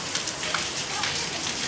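Rain falls steadily, a dense even hiss with no clear pauses.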